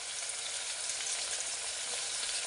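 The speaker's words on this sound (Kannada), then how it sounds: "ನೋಡಿ ಸ್ವಲ್ಪ ಫ್ರೈ ಆಗಬೇಕು" Food frying in a pan gives a steady, even hiss and sizzle, close but fairly quiet, with no talk.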